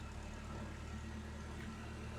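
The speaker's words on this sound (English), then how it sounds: "I've got a tractor that's going past at the moment." A tractor passes outside, a low steady engine rumble heard faintly at a distance, continuous through the short stretch with no voices.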